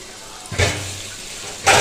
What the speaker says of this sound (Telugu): పేస్ట్లో కొన్ని వాటర్ వేసుకొని వాటిని కూడా కొన్ని పోసుకోవాలి.